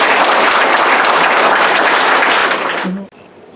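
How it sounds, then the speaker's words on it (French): Wedding guests at a marriage ceremony break into loud, dense applause that continues steadily, then stops abruptly, leaving a brief murmur of room noise and a short voice. "Ah, on applaudit."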